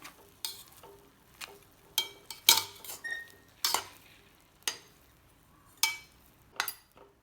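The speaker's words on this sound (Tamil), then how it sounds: "மெதுவாக கலந்து விட்டுக்கலாம். அரிசி உடையாத மாதிரி பார்த்து கலந்து விட்டுக்கலாம்." Cooked mutton pulao gently stirred in a pressure cooker, a string of soft scrapes and light metallic clinks of a spoon against the pot, spaced irregularly over quiet background.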